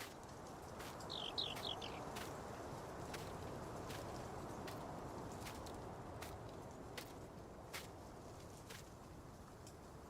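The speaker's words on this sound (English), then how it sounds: "You can hear the birds." Birds chirp in a quick cluster of bright calls early on, then a steady outdoor ambience with faint ticks and rustle carries on in a Farming Simulator 19 countryside scene, with no talking.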